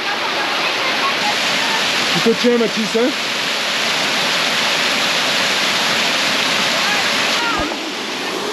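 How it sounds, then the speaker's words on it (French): Steady roar of a waterfall on an Alpine trail, close and loud throughout, with a brief spoken exchange partway through. "On va passer sous la cascade."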